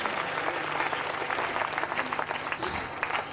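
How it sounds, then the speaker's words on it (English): A congregation at a 2009 national church crusade gives sustained applause, a dense, even wash of many hands clapping from start to finish with a little crowd noise. "Give a clap offering to the Lord."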